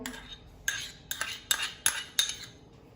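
A spoon clinks and scrapes in a bowl while onion, tomato, salt and red chili are mixed for chapati chaat, with about six sharp metallic strikes spaced under a second apart, close and fairly quiet with no talking.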